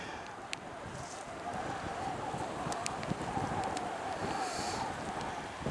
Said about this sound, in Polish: Nieźle wieje.